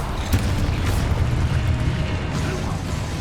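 Hogwarts Legacy spell combat: the Confringo fire spell bursts with dull booms and magical crackle amid steady game noise, and a brief voice calls out the spell.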